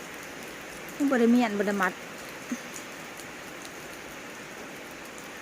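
Light rain falling at a rural home, a constant soft hiss running throughout, with a brief burst of talking and a faint tap under it.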